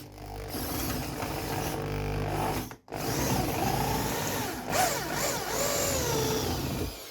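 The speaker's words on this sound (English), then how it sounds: "I'm going to want to drill through this rubber, putting some pressure on it and then starting." Power drill with a 5mm bit boring through a rubber front upper suspension bush on a Mazda MX-5 Miata NC, one steady whirring run, a brief stop, then a second run with a rising grind, close and loud.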